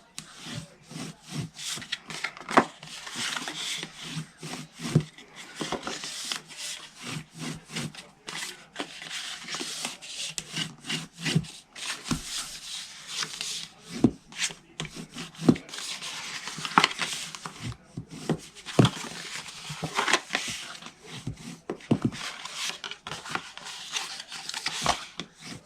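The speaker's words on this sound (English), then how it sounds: "now I'm just going to fold and burnish." Paper card for a front flap box is folded and burnished by hand, making scattered close-up rubbing, scraping and creasing sounds in uneven bursts with brief quiet gaps and no speech.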